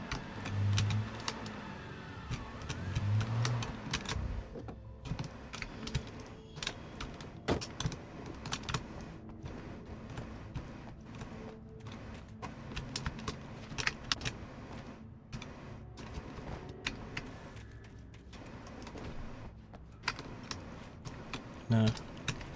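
Steady clicking of a computer keyboard during play of the game Alan Wake, close and continuous, with key presses tapping irregularly over a low game ambience and occasional louder thumps.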